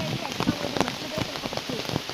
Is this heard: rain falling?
yes